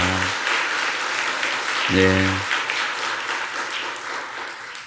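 A church congregation at a Sunday morning service in Korea claps in encouragement, a steady wash of applause from many hands that continues throughout, with someone speaking briefly over it twice.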